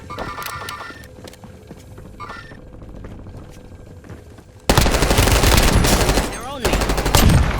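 Automatic rifle fire rattles in long, loud, close bursts during a Warzone match, preceded by quieter in-game clatter and electronic tones before the shooting starts abruptly.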